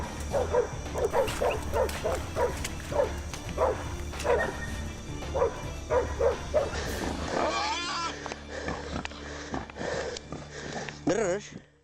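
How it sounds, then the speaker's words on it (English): Hunting dogs bark repeatedly at a cornered wild pig, a rhythmic run of loud, close barks and yips, then a burst of excited growling and squealing near the end, with voices talking over parts of the chase. "When the dogs detect a wild pig, they will typically signal their discovery by barking loudly"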